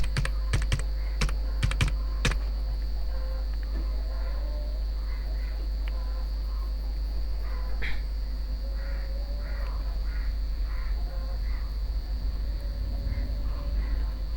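Computer keyboard keys are tapped in a quick cluster of close clicks while a password is entered, followed by a steady background hum with faint bird calls.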